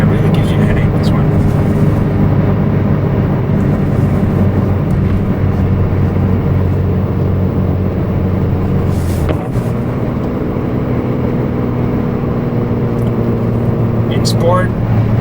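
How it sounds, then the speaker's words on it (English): A BMW G87 M2 with an AWE track exhaust drones low and constant in Sport mode with M sound off, a loud, steady rumble with some wind noise over it and no pops or burbles. "Sport with M sound off, it's pretty tame, no burbles"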